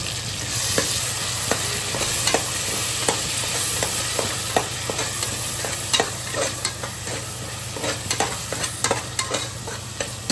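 A spoon stirs chicken biryani masala with yogurt and a squeeze of lemon in a frying pan. It scrapes and clinks repeatedly over a continuous low sizzle, close up, with no talk.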